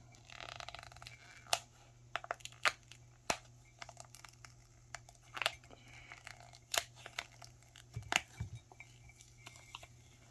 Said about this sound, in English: Everything is peeling back nicely.